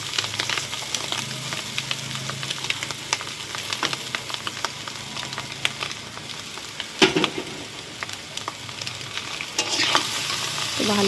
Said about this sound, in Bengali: ভালো করে ভাজতে হবে চাউমিনটাকে লাল লাল করে।